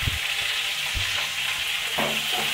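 Tomato, drumstick and green chillies sauté in oil in a pan for a fish kulambu, a steady close sizzle with a few soft scraping stirs and no talk.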